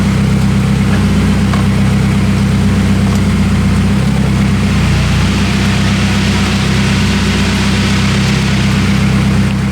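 A turbocharged Honda K24 engine in a rear-wheel-drive car idles just after its first start. A loud, deep, continuous drone stays close and steady the whole time, with no revving.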